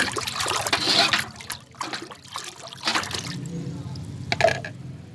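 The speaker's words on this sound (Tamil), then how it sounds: "நம்ம தயாரிச்சிருக்கிற ஃபெர்டிலைசரை கலந்துடலாம் தண்ணியில்" Homemade organic fertilizer being stirred into water for a terrace garden, giving close, uneven trickling and sloshing liquid sounds with a few small splashes.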